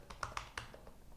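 A short burst of computer keyboard typing, a handful of light, uneven key taps close by, entering a product tag in an eBay dropshipping web tool, with no talking.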